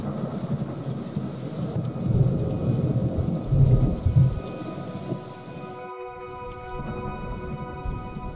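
A thunderstorm outdoors brings steady rain hissing on surfaces while a deep roll of thunder rumbles for several seconds, then the rain continues alone with a faint tonal hum.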